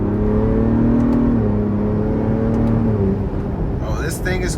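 A 2022 Ford Bronco Raptor's 3.0 twin-turbo engine drones loudly and steadily as it accelerates in sport mode, heard from inside the cabin, with a brief rise in pitch near the end.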